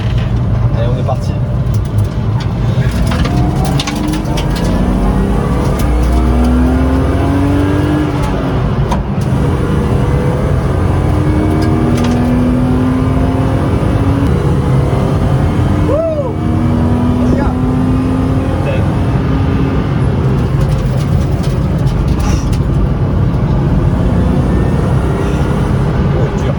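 A classic car accelerating on the Nürburgring track makes a loud, continuous engine roar heard from inside the car, its pitch rising and falling between gears while people talk over it.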